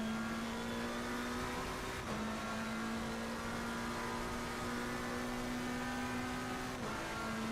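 A GT3 race car engine at Monza in Assetto Corsa Competizione holds a steady, droning high-rev tone with brief dips at gear changes, running continuously and moderately loud with no talk.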